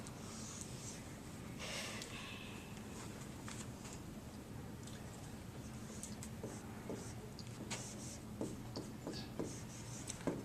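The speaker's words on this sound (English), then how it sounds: "I'm writing the same formula because all of our shapes are rectangles" A pen or marker scratches and taps while a formula for the area of a rectangle is written out by hand. The strokes are faint and close, with soft breathing and low room noise underneath, and they grow busier toward the end.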